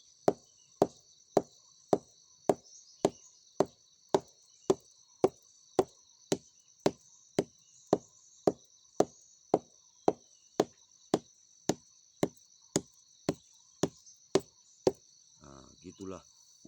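Hardwood beater pounding a split sago palm trunk in a relaxed, steady rhythm, over twenty close, evenly spaced thuds with insects droning behind, ending with a brief murmur of voices.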